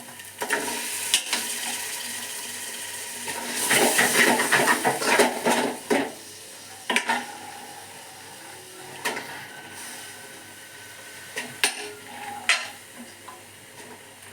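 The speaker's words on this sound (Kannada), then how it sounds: "ಬೆಂದಿರುವ ಕಡಲೆ ಮತ್ತು ಹಲಸಿನಕಾಯಿ ಹಾಕೋಣ." Boiled chickpeas and jackfruit tipped into a hot pan with spices and stirred for a jackfruit sukka, with scraping spoon strokes, clinks against the pan and a soft sizzle, louder bursts of stirring in the middle, no talk.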